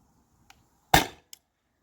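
A Salt Supply S2 Grimburg airsoft gun fires a single sharp, loud shot through a chronograph on a warm day, the crack decaying quickly, with faint mechanical clicks just before and after.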